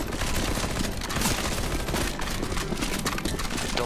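Dense, continuous gunfire from several weapons in the CS:GO Zombie Escape map MindTree, rapid overlapping shots filling the whole stretch at steady loudness with no voices.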